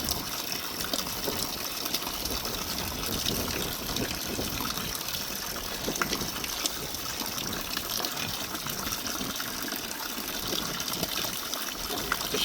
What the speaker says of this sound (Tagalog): Lalagyan ko muna ng tubig.